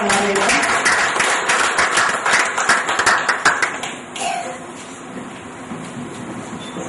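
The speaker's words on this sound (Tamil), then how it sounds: "எல்லாம் கைத்தட்டி உற்சாகமா" Audience at an outdoor medical camp clapping loudly in brisk, dense bursts that fade out after about four seconds, leaving a quieter room tone.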